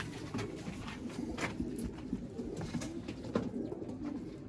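A breeding pair of pigeons, a dun female and a cumin-coloured male, coo in soft repeated throaty pulses, fairly close and alone without talk.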